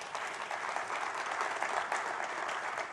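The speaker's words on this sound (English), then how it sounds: "Everybody, give yourselves a round of applause" Sustained applause from an audience at a 2019 Los Angeles sustainability summit, dense steady clapping filling the room for the whole stretch at moderate level.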